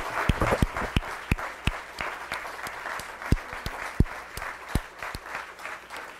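An audience at an art museum talk applauds a speaker. A few distinct, sharp claps stand out from a thinner, moderate patter of general applause.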